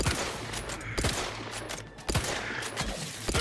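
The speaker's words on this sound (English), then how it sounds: "This is a good rifle." Rifle fire in The Outer Worlds 2 video game, a few sharp shots cracking out over a steady noisy game backdrop, fairly loud and without speech.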